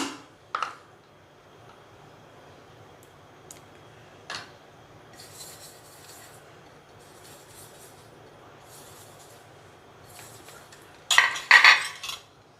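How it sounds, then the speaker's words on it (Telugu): Metal idli plates clink sparsely as they are oiled before filling with jowar idli batter: a few isolated taps early on, then a louder cluster of metallic rattles toward the end, over a quiet background. "ఇడ్లీ పాత్రలకి ఆయిల్ అప్లై చేసుకుందాం"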